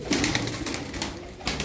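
Taklacı tumbler pigeons keep up a continuous low cooing close by, with soft rustling and short bursts of movement over the top.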